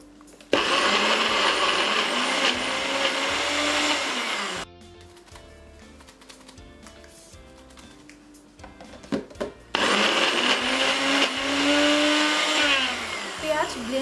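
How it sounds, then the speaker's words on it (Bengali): A blender chops onion with dried shrimp powder for a Bangladeshi shrimp shutki bhorta, running loud and whirring in two bursts with a quieter pause of clatter and handling between them. "পেঁয়াজটাকে আমরা খুব বেশি ব্লেন্ড করব না, জাস্ট আধা মিক্সড হওয়া অবস্থায় নামিয়ে ফেলব।"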